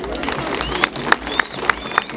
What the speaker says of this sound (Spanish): Señores, el aplauso para ellos.